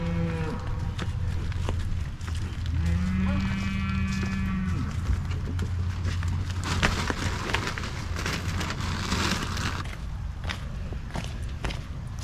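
Brangus cattle moo on a farm during mud season, with a few long, low calls close by, mixed with footsteps and shuffling through mud and faint background noise.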